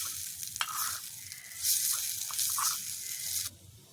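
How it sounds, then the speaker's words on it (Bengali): Boiled chowmein noodles fry in a large wok with a steady close sizzle, rising louder as they are stirred and tossed, then easing off; no one speaks. "আমরা যে চাউমিনটা সেদ্ধ করে রেখেছিলাম ওটা। এখন এটা আমরা ভেজে নেব।"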